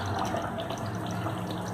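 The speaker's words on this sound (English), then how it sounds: "So now add water as per your gravy." Water poured into mutton curry in a pressure cooker, a steady splashing pour that runs on evenly at moderate loudness with no voices.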